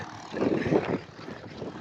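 A tractor-driven rotavator runs in a farm field, giving a steady low mechanical drone heard from a short distance, swelling briefly before settling.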